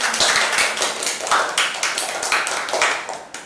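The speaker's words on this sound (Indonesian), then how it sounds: "tepuk tangan sekali lagi" Group applause in a classroom microteaching session on sociodrama group guidance, a dense patter of many hands clapping steadily for a few seconds, fairly close and with no talk.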